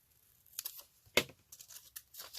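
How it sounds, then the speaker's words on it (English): Scissors cut off the fold of junk journal paper in a few quiet, crisp snips, with light paper rustling in between. "So to just cut off the fold on both sides,"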